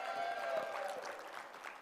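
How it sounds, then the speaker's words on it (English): A round of applause from an audience at an NPHC Divine Nine event, steady dense clapping that swells briefly then tapers slightly, with faint crowd voices mixed in. "Let's give her one more round of applause."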